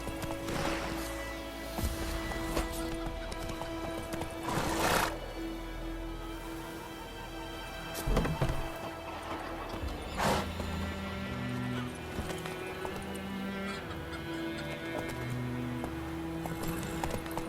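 Roach, Geralt's horse in The Witcher 3, gallops in a steady run of hoofbeats under continuous game music, with a few louder thuds and crashes cutting in along the way.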